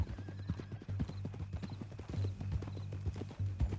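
Horse hooves clip-clop in a steady trotting rhythm in the video game Red Dead Redemption 2, close and distinct, with no voices over them.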